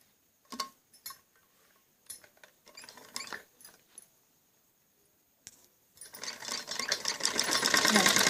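A sewing machine stitches fine seams on piping for a kameez neck, starting with short separate bursts and pauses, then running continuously and growing louder in a rapid mechanical rattle.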